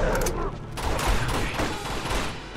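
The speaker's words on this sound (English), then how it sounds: "There's a machine gun." Machine gun fire in Uncharted 2: Among Thieves, a dense, continuous rattle of rapid shots filling the scene without pause.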